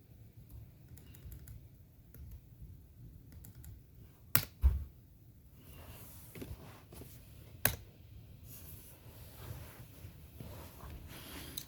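Keys clatter on a computer keyboard connected to a Beelink SER5 MAX mini PC, a soft, faint run of light taps with a couple of sharper clicks, close by with no talking.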